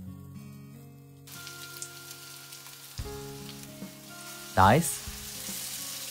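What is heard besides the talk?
tofu and pork hamburger patties sizzling in a frying pan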